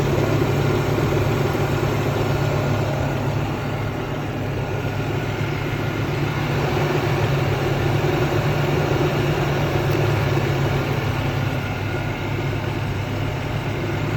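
Nissan 300ZX Anniversary Edition engine idling steadily, a continuous close low hum with no talk over it.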